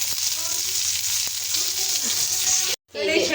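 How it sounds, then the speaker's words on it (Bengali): Tender ridge gourd sautés in a pan where koi fish was just fried, giving a close, continuous sizzle with crackles and brief stirring scrapes, cut by a short moment of silence near the end. "আমার এখানে ধুন্দুলটা কষতে থাকে"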